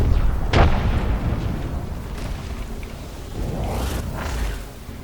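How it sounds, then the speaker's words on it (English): An arc star grenade goes off in Apex Legends: a sharp burst early on, followed by rumbling crackle and a second swell of electric hiss near the end, all over a constant low game-noise bed. "Fling an arc star. Grenade."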